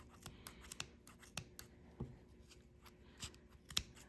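Quiet, scattered scissor snips through yarn and light rustling, a series of small crisp cuts at an uneven pace, close by.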